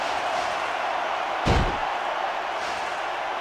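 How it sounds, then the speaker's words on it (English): A wrestler slams down onto the ring mat from a big power slam in a pro wrestling match, one heavy booming thud rising over a constant roar of arena crowd noise. "Beautiful, big power slam by Jim Duggan."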